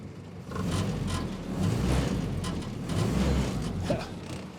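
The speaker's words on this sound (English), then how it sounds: "I'm just going to hit the gas pedal and just see if there's any hesitation at all" A Willys Jeep engine, running after a distributor upgrade, revs in steady surges as the gas pedal is pressed, a loud, near, continuous mechanical drone rising and falling in about three waves with no sputter.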